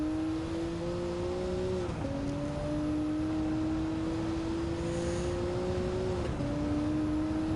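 A GT1 road car in Gran Turismo 7 holds a steady, droning engine note. Two quick dips mark gear shifts before the pitch climbs again as the car keeps accelerating, with no talk.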